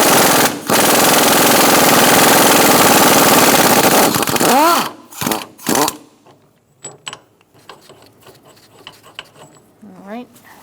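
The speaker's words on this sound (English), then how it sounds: "Using a 17mm, we're going to take out the center bolt" A 17mm socket removes the center bolt of the transmission mount on a 2004–2009 Mazda 3 2.3L: a loud, rapid mechanical rattle for about four seconds, then a few short bursts and clicks, with a voice briefly afterward.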